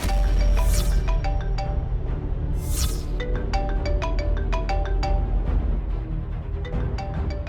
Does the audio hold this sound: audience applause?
no